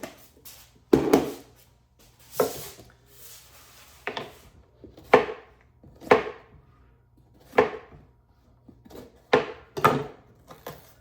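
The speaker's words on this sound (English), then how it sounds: "going to do some more chopping" Vegetables being chopped for soup with a knife on a cutting board, a series of sharp, close knocks spaced irregularly, sometimes in quick pairs, with no talk.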